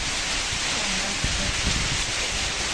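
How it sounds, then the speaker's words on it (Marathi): Heavy rain pours steadily at the start of the monsoon season, a dense continuous hiss filling the scene with a few louder thumps of drops partway through. "तर जोरात पडायला आहे पाऊस"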